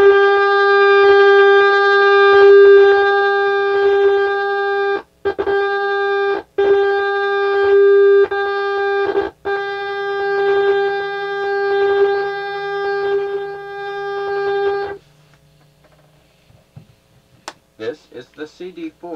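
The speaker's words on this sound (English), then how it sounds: "This is the 30 kilohertz carrier level adjustment tone." A CD-4 test record plays its carrier level adjustment tone through a Pioneer QX-747 receiver: a loud, steady buzzy tone with a few brief dropouts that cuts off, leaving a low hum and scattered clicks.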